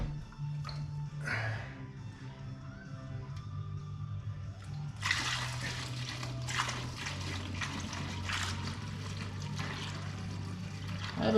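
Liquid is poured from a full bucket during a 6.4 Powerstroke water pump replacement, giving a steady close trickling and splashing that grows heavier partway through and continues to the end.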